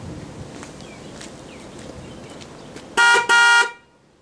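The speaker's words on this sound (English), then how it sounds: "It's a normal car horn, like any stock car would have." An ordinary stock car horn mounted on a racing lawnmower honks twice in short, loud, steady blasts after a stretch of quiet outdoor background noise.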